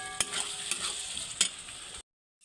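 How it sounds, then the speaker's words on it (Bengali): Masala with chopped tomato frying in a pan, a steady close sizzle broken by a few sharp scrapes of a spoon stirring, ending in sudden silence. "দিয়ে দিচ্ছি টমেটো কুচি। এবার মশলা ভালো করে কষে নেব।"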